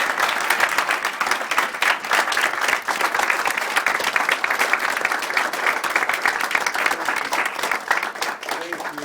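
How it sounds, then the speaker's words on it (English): A crowd applauding a speaker, dense sustained clapping from many hands, loud and continuous for several seconds. "Give him a clap, please."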